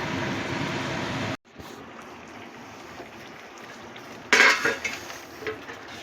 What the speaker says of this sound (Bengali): আর এবার একটা চাপা ঢাকা দিয়ে দিলাম যাতে সবজিগুলো তাড়াতাড়ি সেদ্ধ হয়ে যায়।